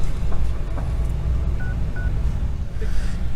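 A telephone keypad sends a few short, faint dialing beeps to place a call, heard over a constant low background rumble.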